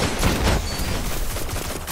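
Burst-fire gunfire in the Destiny video game during a Trials of Osiris match: dense, loud, rapid shots with no pause, layered into a continuous barrage.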